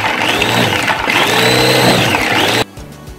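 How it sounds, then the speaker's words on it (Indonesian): A kitchen blender whirs loudly and steadily as it purees hard fruit and other ingredients for pecal, cutting off abruptly near the end. "Kita blender dulu ."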